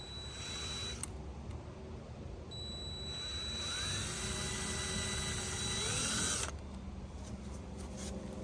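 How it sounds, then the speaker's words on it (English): A power drill bores through the metal frame of a hybrid camper, a close, high whine that climbs steadily in pitch as it works through, then cuts off abruptly. "when I drill through the metal, I don't bust through and grab the canvas"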